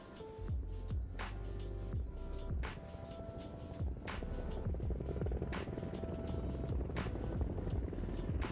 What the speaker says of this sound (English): leading to our rescue via a military helicopter